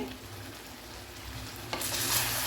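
Chicken pieces frying in melting butter in a pan, stirred steadily with a low rumbling sizzle that swells into a brighter, louder hiss near the end, with no voices.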